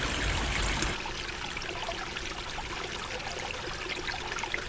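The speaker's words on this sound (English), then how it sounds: "I've just disabled the fountain at the front just so you can really see that waterfall in action." A small solar-powered pond waterfall runs down a blue slate stream, giving a steady, close splashing trickle, heavier and louder for the first second before settling to an even flow.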